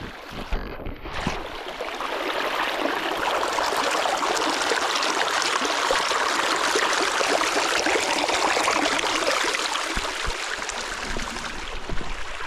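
Steady, moderately loud rush of flowing stream water at a spot where the water looks somewhat dirty, a continuous broadband wash lasting the whole stretch with no talk over it.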